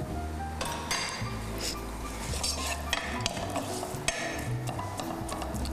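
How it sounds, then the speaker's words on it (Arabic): Onions fry in a pan, a steady close sizzle with occasional clinks and scrapes of a utensil stirring, continuous throughout without speech. "نقلي البصل"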